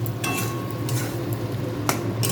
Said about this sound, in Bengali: এরপরে আবার একটু নাড়াচাড়া করে নেব